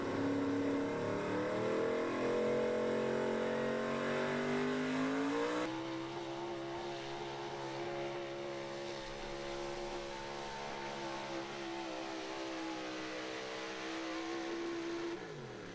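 The Danger Ranger, a Virginia pulling truck, roars at a truck and tractor pull, its engine revving hard and climbing in pitch, then holding a loud, sustained drone as it pulls down the track.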